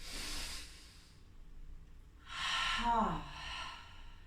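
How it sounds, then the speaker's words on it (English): A deep yoga breath: a soft airy exhale fades out, then after a quiet pause a big breath is drawn in and released, close and hushed. "Take a giant breath in."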